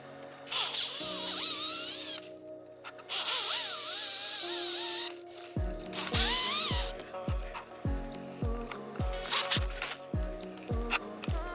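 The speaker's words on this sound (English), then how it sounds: "take a drill and drill out as much of that as I can" A power drill with a spade bit whines and bogs down as it drills out a C6 Corvette catalytic converter, revving in bursts with rattling, grinding chatter toward the end.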